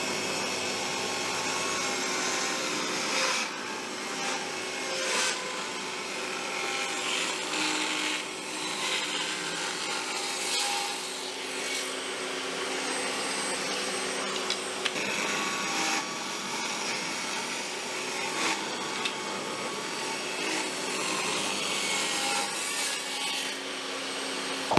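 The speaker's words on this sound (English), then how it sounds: "You just got to be careful when you're cutting really narrow strips like this." A table saw rips narrow wood strips for Japanese-style shoji lamps: a loud, steady motor whine with repeated rising bursts of cutting noise as each strip is fed through, running on without any talk.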